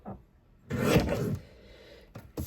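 Paper for a scrapbook page kit gets trimmed on a cutter: a soft scrape, a louder rasping slide of the blade, then a couple of faint short taps, close and quiet.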